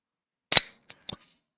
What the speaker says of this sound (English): you've been opening cans of beer